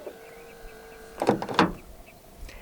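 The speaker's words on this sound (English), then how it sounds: "To lock the car, press the black button on any of the front door handles." A 2019 Hyundai Tucson 2.0 CRDi locking when the black front door handle button is pressed: two quick close mechanical clunks from the latches, heard alone over faint background hum.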